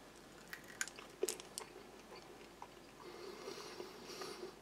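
Firm mint gum with a crispy shell is chewed close up, giving a few faint crunches followed by soft, wet chewing.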